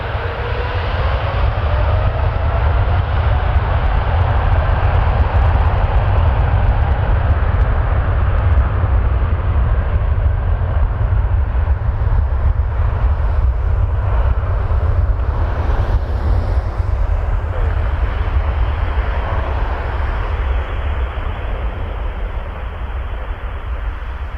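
A heavy Air Canada airliner coming in to land on runway 24 left at Toronto Pearson Airport, a steady loud jet engine roar with low rumble that holds throughout and shifts slightly in tone, with no voices.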